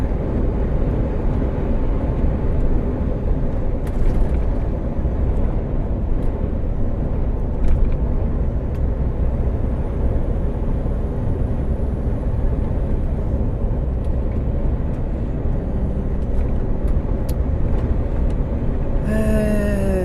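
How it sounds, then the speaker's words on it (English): A fast truck drives along a road between Birmingham and Fradley, heard as a constant loud engine and road rumble throughout, with a few faint clicks and a brief squeak near the end. "This truck is super duper fast."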